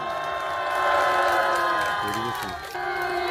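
A crowd at a memorial ceremony claps for a former association chairman, with a brief burst of applause and some cheering mixed under ongoing voices.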